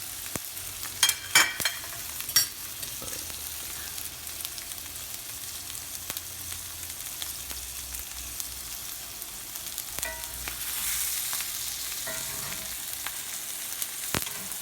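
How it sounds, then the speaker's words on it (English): A steak sears in a hot pan for a reverse-sear, a steady low sizzle running throughout with a few sharp pops and clatters early on, no voices. "We're purely just searing the outside of the steak and trying to develop a nice, delicious crust."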